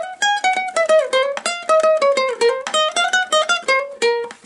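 Bright plucked ukulele notes pick out a lively theme melody, each note crisp and quickly decaying, played close with no talking.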